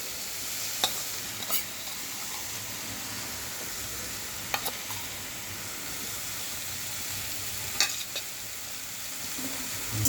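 Cauliflower curry frying with a special spice mix, giving a soft, steady sizzle broken by occasional sharp clinks of a spoon stirring against the pan, quiet and close, with no talk.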